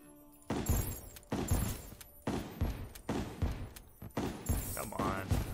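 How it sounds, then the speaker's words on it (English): Explosions in the video game Terraria boom in a steady series, about six sharp blasts roughly one second apart, each with a decaying rumble, loud and close. "Sometimes the explosion just does not get them."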